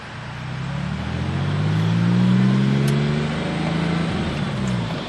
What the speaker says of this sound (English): Acceleration run and downshifting.